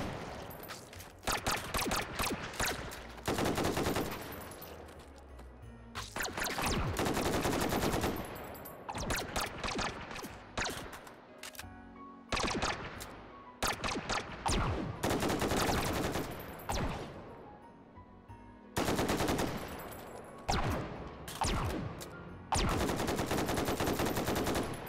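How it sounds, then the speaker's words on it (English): AR-10 rifle fire in the VR shooting game Hot Dogs, Horseshoes & Hand Grenades, loud rapid bursts of shots separated by brief pauses, repeating across the whole stretch with no voices. "so that's an AR-10."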